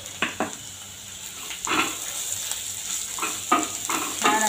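Browned onion sautéing with goda masala, red chili powder and coriander powder, a quiet steady sizzle punctuated by several brisk spatula scrapes and stirs against the pan.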